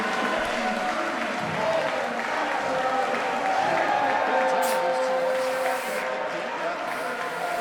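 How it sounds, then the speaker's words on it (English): At the end of an amateur axe throwing championship match, a crowd cheers and applauds as it storms the court to celebrate the champion, a dense, steady roar of mixed voices and clapping. "As the crowd comes on and storms the court, celebrating the champion, lifting them on their shoulders"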